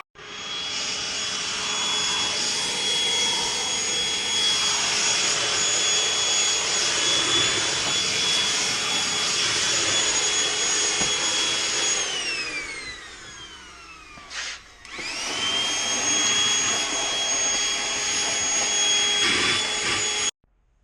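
A Milwaukee M18 compact cordless vacuum picks up green powder-coating dust in a shop. Its steady, loud whine keeps running, dips and winds down briefly near the middle, then spins back up and holds until it cuts off at the end.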